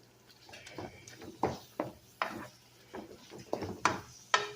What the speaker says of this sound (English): right now, I'm just going to mix this up